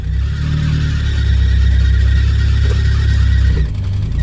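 A car engine with a worn clutch revs loudly and steadily for a few seconds, a rising mechanical roar with rhythmic pulsing, then drops off abruptly near the end.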